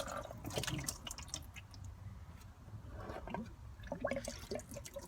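Engine oil drips and trickles from a removed oil filter into a drain pan under a Toyota Land Cruiser Troop Carrier with the VDJ V8 diesel, with intermittent spatters and small splashes close by.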